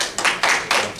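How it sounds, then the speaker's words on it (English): Applause at a school board of education meeting, a short burst of hand clapping in distinct quick waves, fairly close and alone without speech. "a round of applause as well"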